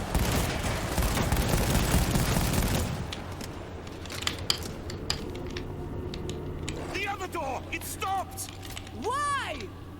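Allied gunfire in the World War Z video game, a dense rattle of shots for about three seconds, followed by sparse clicks and distant pops under talking voices.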